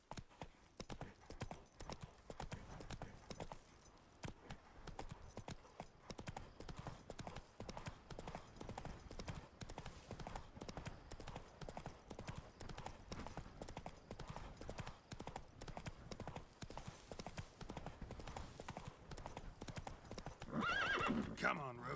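Geralt's horse Roach gallops with steady, rapid clip-clop hoofbeats throughout, with a whinny and a voice breaking in near the end, all from the video game The Witcher 3 DLC Blood and Wine.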